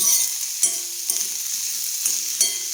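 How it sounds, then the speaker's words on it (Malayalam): Onion, potato and carrot fry in a pan for masala dosa filling, a steady close sizzle broken by several clinks and scrapes of a spoon stirring the vegetables. "സവാള വഴന്ന് വരുന്നുണ്ട് കിഴങ്ങ് ക്യാരറ്റ് ഇട്ടിട്ടുണ്ട് നന്നായിട്ടൊന്ന് ഇളക്കി യോജിപ്പിച്ച ശേഷം അടച്ചു വെച്ച് വേവിക്കാം"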